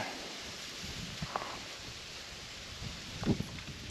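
Gusty wind buffeting outdoors while fishing, a steady rushing hiss with a few brief bumps and rustles, no talking.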